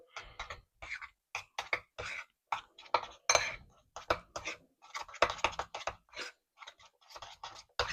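Protein powder is stirred briskly in a drink, a rapid run of small clinks and taps from a utensil against the container, close and steady, with brief pauses between bursts.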